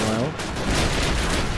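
Dense, loud bursts of machine gun fire from the Call of Duty: United Offensive video game, with a Chinese machine gun named, fill the short clip as an unbroken battle roar.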